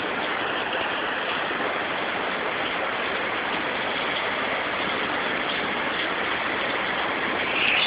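Heavy downpour during a flood on Carijós street, a dense, steady roar of rain and rushing water filling the whole scene without pause, loud and close.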